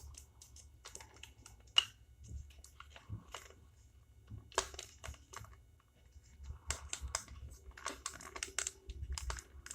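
Faint plastic clicks and snaps come in irregular bursts as parts of a Fanstoys Quietus transforming toy figure are folded and moved, growing busier toward the end.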